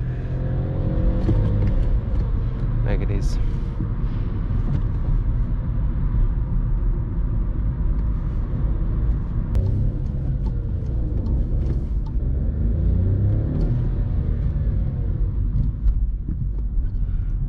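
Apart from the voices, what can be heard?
60 horsepower car engine revving during hard downshift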